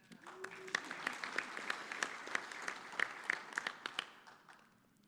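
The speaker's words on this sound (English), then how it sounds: "have everybody give you a round of applause" An audience at a club meeting breaks into a round of applause, a dense burst of many hands clapping that swells then fades over a few seconds, with faint voices beneath.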